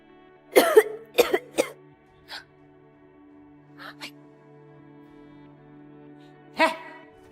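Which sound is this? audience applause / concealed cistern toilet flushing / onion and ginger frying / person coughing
person coughing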